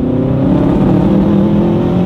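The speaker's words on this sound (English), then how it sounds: "So I go full throttle." A Subaru Impreza WRX bugeye engine with a six-speed swap drones loudly and steadily at full throttle around 3,000 to 4,000 RPM, a low, continuous revving hum close to the microphone.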